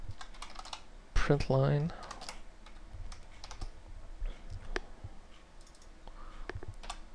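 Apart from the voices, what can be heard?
typing on a computer keyboard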